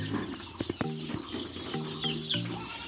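Sonali chicks clucking and cheeping from a nearby brooding flock, short repeated calls with a steady low background hum.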